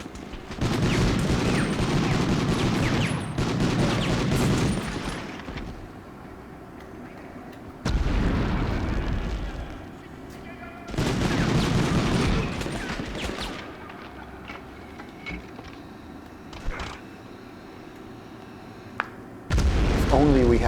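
Grenade blasts and gunfire from the Medal of Honor video game arrive in heavy, booming bursts separated by quieter stretches, with talk running underneath.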